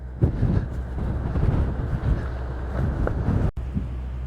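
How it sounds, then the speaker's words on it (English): Wind at Silverwood Lake buffets the microphone in a continuous low, rumbling roar with gusty surges and a brief dropout near the end, with no talking. "That's going to be noisy in the microphone."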